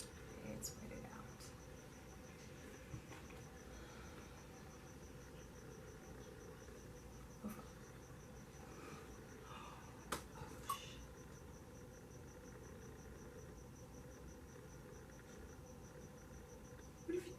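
Crickets or similar insects chirping steadily and faintly in the background, a thin continuous trill, with occasional soft clicks and small handling noises.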